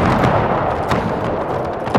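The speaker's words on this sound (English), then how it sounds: "the British are just about firing their rockets" British rocket troops firing in Napoleon: Total War, a dense wash of battle noise with loud launches and bursts, one near whoosh-like blast early and another strong crack near the end.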